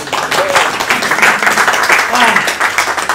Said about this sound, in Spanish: Sí, aplausos. Espontáneo.